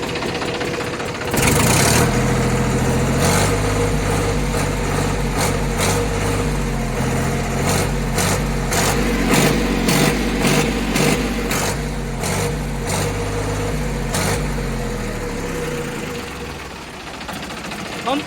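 A John Deere 5103 tractor's engine starts and runs close up with a loud, steady diesel rumble, punctuated by rhythmic knocking beats, then eases off near the end.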